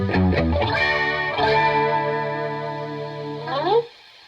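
Electric guitar through a chorus effect in AmpliTube 4, sustained chords shimmering and wavering with a swirling, doubled tone, a few notes picked at the start, ringing out close and clear before cutting off.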